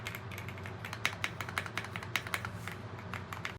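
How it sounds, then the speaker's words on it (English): Mechanical keyboard keys on a Q1 Max press with a deep, cushioned thocky sound: a run of irregular close clicks and taps over steady low background music. "Every key press has this deep, thocky, almost cushioned sound that keyboard enthusiasts call the holy grail tone"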